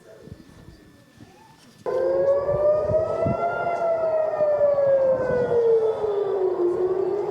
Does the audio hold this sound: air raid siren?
yes